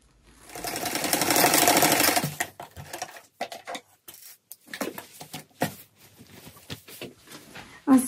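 A sewing machine stitches a folded hem on a sweater, running in a loud continuous whir for about two seconds, then going quiet apart from scattered clicks and soft handling of fabric nearby.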